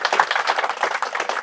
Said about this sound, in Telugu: గట్టిగా చప్పట్లతో అభినందనలు తెలియజేద్దాం